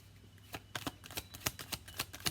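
Tarot cards shuffle in quick, crisp riffling bursts close to the mic, a rapid uneven patter of flicks with no talking.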